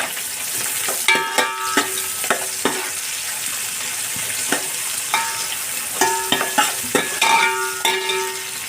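Onion and green chillies frying in oil for fish biryani, a soft steady sizzle broken by repeated sharp clinks of a stirring spoon against the pan, close, with no speech.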